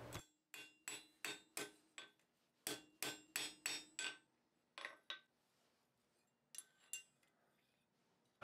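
A blacksmith's hammer strikes metal in sharp ringing blows while straightening a forged box piece, close and loud, in quick rhythmic runs separated by brief pauses.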